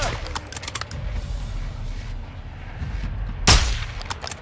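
Gunfire in the video game Call of Duty DMZ: sharp shots crack across a busy game soundscape, with one louder, fuller blast near the end standing out above the background.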